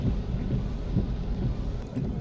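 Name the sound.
heavy rain during a drive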